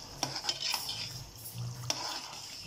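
Chicken haleem with dal, water and haleem masala is stirred in a pot, giving a few quick scraping and knocking strokes over a faint bubbling sizzle, close and quiet, with no speech.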